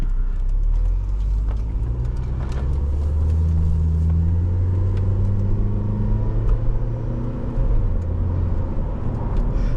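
A 2005 Saab 9-3 Cabriolet Aero automatic with 50k miles drives along, its steady engine hum and road rumble running continuously and fairly loud throughout, with slight rises in pitch as it moves.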